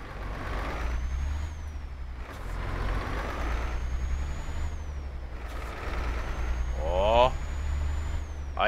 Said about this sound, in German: Wir sagen jetzt einfach mal Motor an.